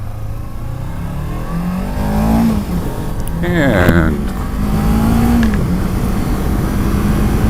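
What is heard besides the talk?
wind noise while riding motorcycle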